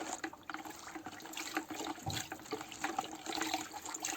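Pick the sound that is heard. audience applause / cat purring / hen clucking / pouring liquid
pouring liquid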